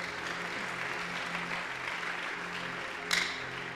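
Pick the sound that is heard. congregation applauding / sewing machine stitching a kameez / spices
congregation applauding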